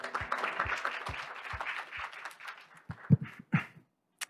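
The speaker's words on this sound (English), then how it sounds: "Please give him a big round of applause." Applause at a business seminar in Korea, a sparse, quiet patter of hand claps from the audience that thins out into a few scattered, isolated claps before fading to silence.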